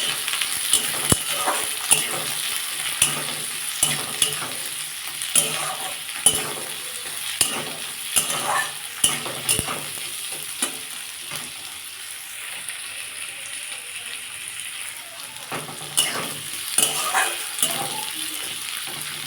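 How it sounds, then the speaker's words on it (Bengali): Sliced onions sizzle in hot oil in a pan with dried red chillies and cumin for a masoor dal tadka, a steady frying hiss broken by repeated scraping stirs and sharp clinks of a spatula throughout. "পেঁয়াজটা দিয়ে দিয়েছি পেঁয়াজটা আমি ভাজবো"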